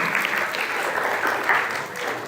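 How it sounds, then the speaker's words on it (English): A workshop audience of scholarship hopefuls breaks into dense, continuous applause, a steady full-room wash of many hands with no distinct single claps. "let's give a round of applause for everyone"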